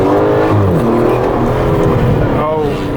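Twin-turbo Aston Martin DBS Superleggera sports car accelerating hard, a loud sustained engine roar with rising pitch sweeps, heard close with voices talking over it.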